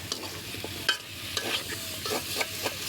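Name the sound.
stirring chicken and papaya frying on clay stove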